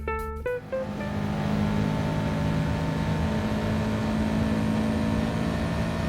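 Subaru WRX race car in Gran Turismo Sport on the Dragon Trail Gardens circuit, with a steady, continuous engine drone holding at high revs after a brief opening burst of tones.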